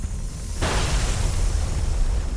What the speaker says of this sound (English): Crushing pressure triggers cellular explosion.